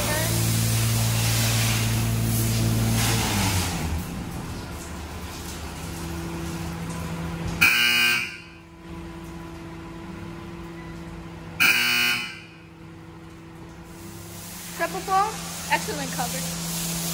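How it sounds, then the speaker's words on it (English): A Ryko SoftGloss Maxx 5 car wash running at a Chevron gas station, with a steady machine drone and spraying hiss broken by two short loud bursts, while a person talks over it. "Car wash."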